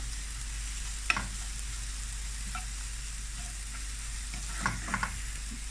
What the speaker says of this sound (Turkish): Bir tatlı kaşığı biber salçasını ilave ediyorum. 1-2 dakikada bunu kavuruyorum.